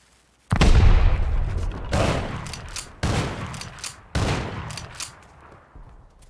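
Explosives detonate in the video game Rust, a loud initial blast followed by three more booming explosions at roughly one-second intervals, each with sharp crackling debris that fades away.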